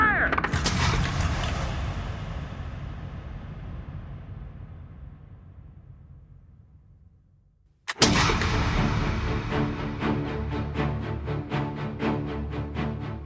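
Muskets fire in a loud volley with a long rolling echo that decays over several seconds, followed by a second crashing burst of shots and sharp cracks layered with dense, ongoing noise.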